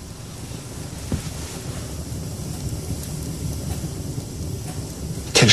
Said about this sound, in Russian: Сегодня дует сильный ветер, и море очень неспокойное.